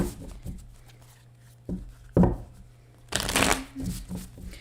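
Tarot cards shuffled close up on a hotel room desk, several short riffling bursts separated by quiet pauses, with a longer flurry near the end.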